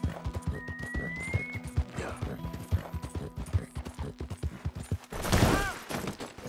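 Rapid hoofbeats clatter in a galloping rhythm in the video game Red Dead Redemption 2, then a loud horse whinny rings out near the end, with game-like sound effects.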